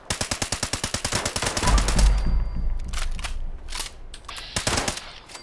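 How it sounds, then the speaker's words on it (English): Machine gun fire in Fallout 76 opens as a loud, evenly spaced automatic burst of rapid shots, then breaks into shorter sporadic bursts with a deep rumble beneath. "that wasted like 30 bullets trying to take that guy down"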